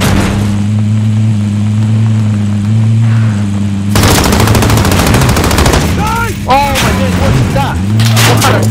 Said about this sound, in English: I'm getting shot from the back.